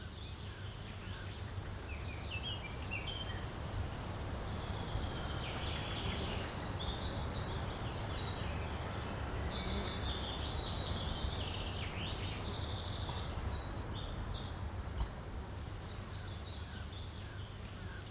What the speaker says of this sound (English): The gentle wind brushes through the leaves, the chirping of birds, and the spirit of the forest itself.